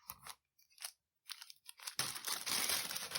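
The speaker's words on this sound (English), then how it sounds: "I don't know why I'm so obsessed with these ASMR crunchy packaging noises" Crunchy plastic packaging crinkled and handled while small-business orders are packed, with a few short sparse crackles followed by a dense, continuous crunching rustle close up.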